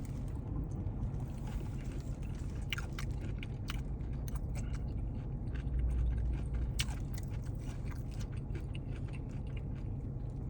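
Crunchy broccoli is chewed close to the mic, with repeated crisp bites and crunches over a steady low background hum and no talk.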